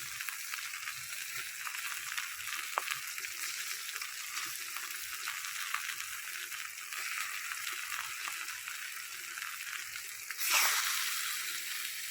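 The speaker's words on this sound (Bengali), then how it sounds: "এই যে মাছগুলো সব দিয়ে দিলাম, একটু হালকা ভাজে দিয়ে নেব" Hilsa fish pieces fry in hot oil in a wok, giving a steady, even sizzle that runs throughout and swells a little louder near the end.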